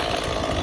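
Chainsaw firing up with its chain brake engaged, a steady loud engine roar running without pause through a very short moment.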